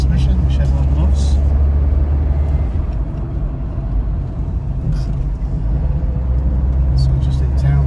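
Steady low engine and road drone inside a 1979 Ford Capri 1.6 GL Mk3 with a four-speed manual gearbox, driving through town traffic. Faint passing noises are heard now and then.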